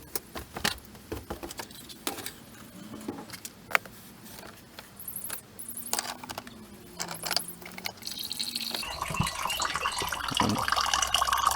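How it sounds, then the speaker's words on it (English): Water from a Vevor 8KW tankless water heater dripping and trickling into a ceramic coffee mug, with small irregular drips and metallic clinks, growing into a denser splashing trickle toward the end. "letting the water drip out into this coffee mug"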